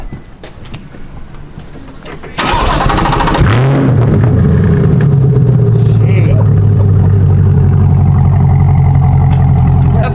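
A C8 Corvette engine roars to life and holds a loud, steady revving drone, with a voice briefly exclaiming over it.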